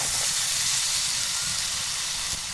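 Potatoes and pointed gourd hitting prawns frying in spiced masala, giving a loud, continuous close-up sizzle and hiss with a faint knock near the end.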